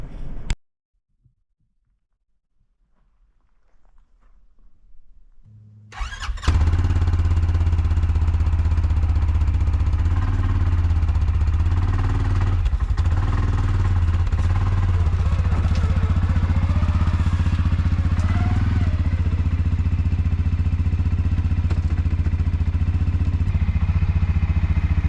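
A CFMOTO 600 quad ATV starts after a few seconds of near silence. It then settles into a loud, steady idle and rumbles close by for the rest of the clip.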